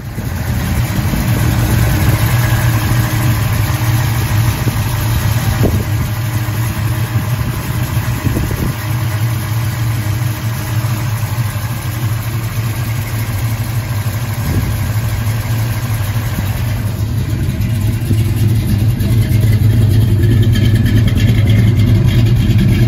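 A restored car's engine idles steadily and loudly throughout, with a constant low rumble and a few small knocks, and no one talking.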